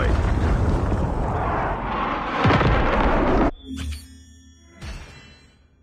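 Napalm strike in Call of Duty Mobile, a loud roaring burst of fire and rumble that builds for a few seconds, cuts off abruptly, then leaves short fading booms and ringing tones.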